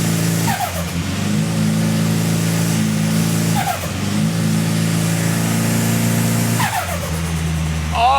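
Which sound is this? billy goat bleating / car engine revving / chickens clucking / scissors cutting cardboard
car engine revving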